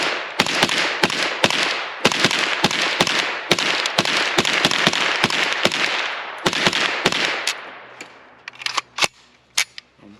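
A KUSA KR9 AK-pattern 9mm carbine with a faux suppressor fires at a range: a long run of sharp, loud shots in quick succession, a short pause, then a few more scattered shots.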